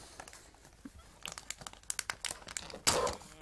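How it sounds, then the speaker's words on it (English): Knife slicing through and crinkling open a plastic cheese package, a run of sharp crackles and short tearing rustles up close, ending in a louder crunchy rip. "Now you're meant to cut along the top with some scissors. I'm going to use a knife instead,"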